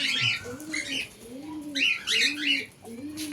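Cockatiels and other pet birds in an aviary give soft, wavering coos mixed with bright, overlapping chirps in quick bursts, close by.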